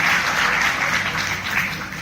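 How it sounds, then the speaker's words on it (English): Audience at a university law academy event applauds, a continuous wash of clapping from the start that stays steady and fairly loud, tapering slightly toward the end. "a big round of applause to each and every one of you all"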